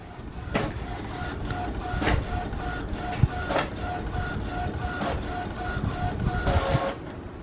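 A sublimation printer runs a transfer print, its print head shuttling back and forth with repeated whirring passes and faint clicks in a steady mechanical rhythm.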